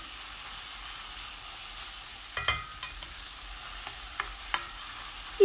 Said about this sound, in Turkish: Salçanın kokusu çıkıncaya kadar kavuruyorum.